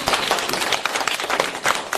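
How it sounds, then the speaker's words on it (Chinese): An audience at a dharma talk in Paris claps in a quick, rhythmic burst of many hands, close and fairly loud, with a faint voice mixed in. "你们多鼓掌对你们有好处的"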